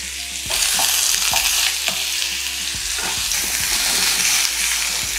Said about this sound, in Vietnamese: Khi mà mình xào thì mình sẽ xào với lửa nhỏ thôi